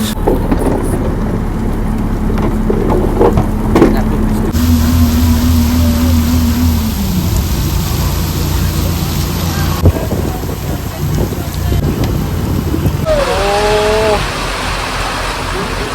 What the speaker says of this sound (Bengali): প্রচন্ড জোরে বৃষ্টি হচ্ছে, যে কারণে ধোঁয়াশা হয়ে গেছে